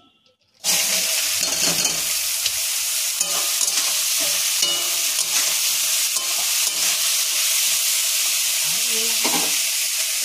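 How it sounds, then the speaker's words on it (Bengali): Bitter gourd and potatoes hit a hot pan after a moment of quiet, then fry loudly and close with a dense, steady sizzle and occasional stirring scrapes. "তো এখন আমি উচ্ছে আলু ভাজা।"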